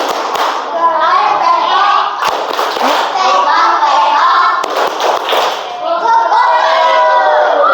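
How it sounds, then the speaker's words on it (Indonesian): A classroom of students performs the tepuk ayam clap chant, many voices chanting loudly together throughout, broken by a few sharp, scattered claps. "Coba tepuk ayam."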